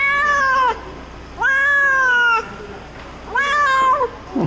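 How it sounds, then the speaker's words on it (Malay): A cat on an apartment roof meows three times in long, drawn-out cries, loud and close, with short quiet gaps between them. "Okey, kucing siapa?"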